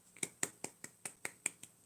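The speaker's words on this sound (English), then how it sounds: "Give them a golf clap." A small group gives a soft, polite golf clap: about nine light, evenly spaced claps in under two seconds, quiet and close, with no other sound.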